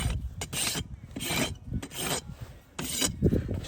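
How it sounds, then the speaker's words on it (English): A farrier's rasp files a horse's hoof in close, repeated rough strokes, each scrape a loud burst separated by short pauses, with no talking. "make this foot look as nice as I can with my rasp"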